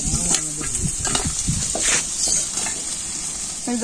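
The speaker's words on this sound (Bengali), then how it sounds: "মাছ ভাজা গেছে নামে ফেলে" Oil crackles and sizzles steadily as fish fries in a pan, with occasional clinks of a utensil close by.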